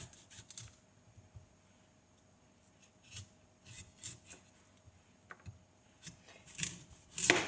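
Short scraping, rasping strokes of a knife shaving down the root end of a vegetable on a board, close and fairly quiet, coming in irregular bursts with a sharper scrape at the end.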